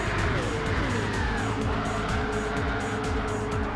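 A race car engine roars and tires squeal as the car is tipped into a spin during a racing game feature race, loud and continuous with shifting engine pitch.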